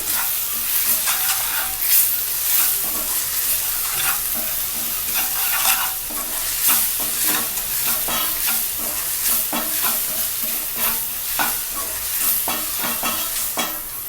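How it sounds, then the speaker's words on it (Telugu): A spoon stirs cumin and coriander powder in a hot pan for Maggi masala, producing continuous sizzling with repeated scraping strokes in a steady rhythm, close and fairly loud, with no speech. "ఈ జీలకర్ర పొడి, ఈ ధనియాల పొడి అన్నీ వేసుకొని ఒకసారి బాగా కలియబెట్టుకోవాలి."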